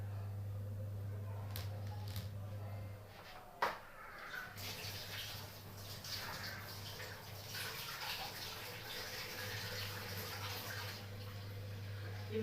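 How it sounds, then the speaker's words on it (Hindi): Peeled eggplants (brinjal) washed in water, giving a steady splashing, sloshing wash over a low background hum, with one brief sharper knock partway through. "अब मैं इनको धुल लेती हूँ बैंगन को।"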